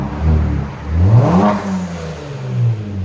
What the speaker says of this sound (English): 2020 Kia Stinger. Muffler delete. Clean idle.